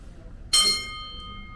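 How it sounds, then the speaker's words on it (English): A single strike of the old bell from the original high school, rung in remembrance at an alumni reunion, gives a bright, close ding that rings on and fades over about a second. "rings the bell in remembrance because that is the bell from the original high school"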